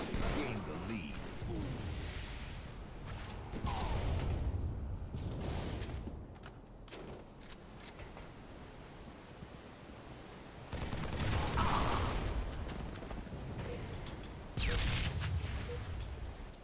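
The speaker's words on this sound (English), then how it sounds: "He's got rockets." Rocket blasts and bursts of gunfire in a video game, loud booming explosions interspersed with rapid crackling shots, with someone talking at times over the combat.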